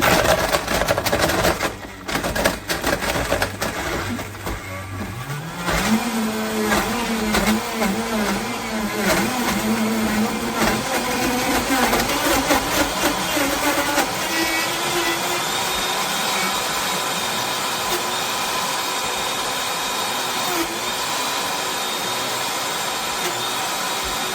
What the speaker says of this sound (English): Now this is going to get loud. I'm going to set it on the frozen treat setting.